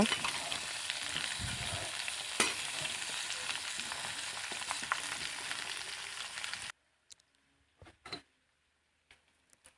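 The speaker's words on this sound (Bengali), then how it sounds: "দিয়ে দিলাম জলপাই দিয়ে নেড়ে ছেড়ে মিশিয়ে নেব" Olives are stirred with spices in a hot pan for an olive pickle, making a steady frying sizzle for about seven seconds. Then it cuts to near silence broken by a few faint ticks and clicks.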